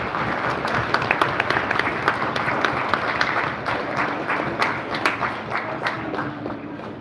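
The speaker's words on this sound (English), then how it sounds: "Give yourself a round of applause." An audience at the Hebrew Summit in Greensboro, North Carolina bursts into sustained applause, dense clapping filling the room evenly for several seconds before thinning slightly toward the end.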